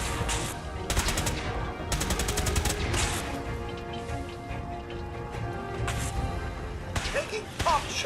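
Enemy gunfire in Fallout 4 comes in bursts of rapid shots over a steady background, with other game sounds and some talk mixed in.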